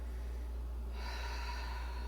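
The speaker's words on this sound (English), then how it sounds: "I'm breathing in through my diaphragm, in through the nose, out through the mouth" A single breath drawn in through the nose and let out through the mouth during a Pilates exercise, soft and close, with an airy exhale swelling in the second half.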